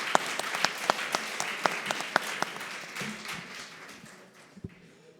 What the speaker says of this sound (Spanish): este aplauso ha sido menos sonado